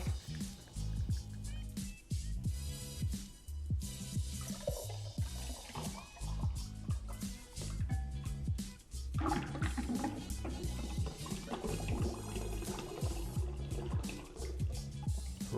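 Cranberry juice pours steadily into a glass beneath loud, continuous background music that dominates the mix.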